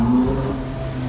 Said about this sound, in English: the 458 is actually the last Ferrari with a V8